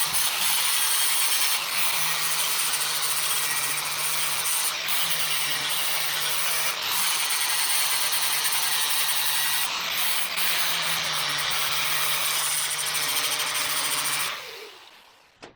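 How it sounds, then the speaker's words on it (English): Power tool grinding and smoothing the cut metal bottom of a truck differential during a K5 Blazer to K30 axle swap, a loud steady abrasive whine with slight pitch dips, running continuously for about fourteen seconds before stopping abruptly. "I was able to finish the cut and move on to smoothing the bottom of the diff"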